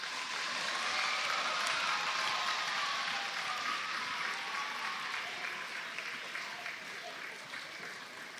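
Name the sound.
round of applause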